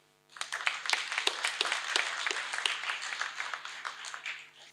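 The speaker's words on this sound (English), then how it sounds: "I would ask you to give her a clap also." At a university graduation ceremony, an audience applauds warmly, with many hands clapping in a steady, moderately loud patter that starts abruptly and continues throughout.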